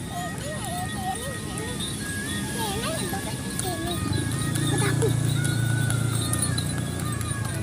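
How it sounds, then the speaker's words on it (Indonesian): Horse hooves clip-clopping on a road during a quiet morning walk, a steady moderate rhythm passing near, with birdsong, a person talking and background traffic rumble. "Awas ada kuda."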